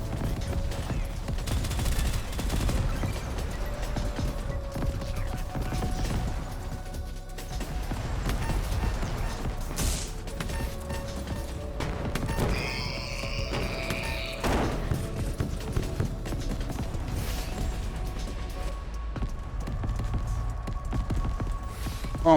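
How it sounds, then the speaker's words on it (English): Many missiles firing at once in the Echo Point Nova video game, a dense, loud, continuous barrage of blasts and rumble that never lets up. "Oh my god, so many missiles."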